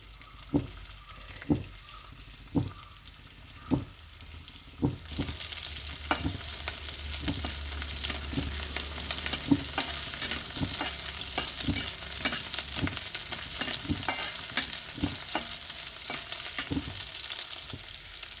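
Chopped garlic and ginger sizzle steadily in hot oil, with a wooden-spoon stirring scrape and clicks against the pan repeating through the frying, close and fairly loud and continuous, with no voices.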